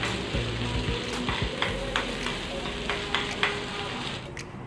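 Ginger, garlic and slit green chili cook in a hot pan of oil for thattukada-style kolli botti, sizzling steadily with a few light stirring scrapes, close and moderately loud, with no talking.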